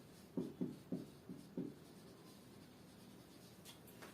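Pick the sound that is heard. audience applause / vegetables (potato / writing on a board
writing on a board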